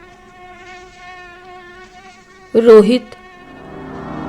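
Mosquitoes whine in a thin, steady drone on a sweltering night during a power cut, with a louder burst of noise breaking in midway. A single name is spoken briefly.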